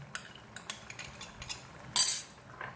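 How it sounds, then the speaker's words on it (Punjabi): Metal spoon beating fresh cream or malai in a bowl, a run of sharp, separate clinks and scrapes close up, with one louder burst of rapid stirring near the end. "ਇਹਨੂੰ ਚਮਚੇ ਦੇ ਨਾਲ ਅਸੀਂ ਫੈਂਟ ਲੈਨੇ ਆ"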